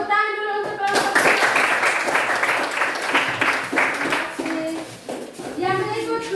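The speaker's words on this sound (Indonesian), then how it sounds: "Tepuk tangan dulu untuk kelompok." A classroom claps for a presenting group, a dense burst of applause lasting several seconds, close by, with children's voices talking before and after.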